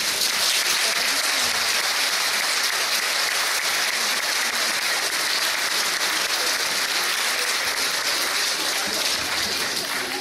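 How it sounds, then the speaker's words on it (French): An audience in a hall claps steadily and densely for mothers at a Mother's Day moment of a church faith celebration, with no voices over the applause. "On peut applaudir les mamans."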